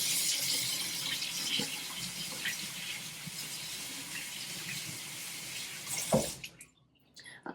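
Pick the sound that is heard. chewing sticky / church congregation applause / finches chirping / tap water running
tap water running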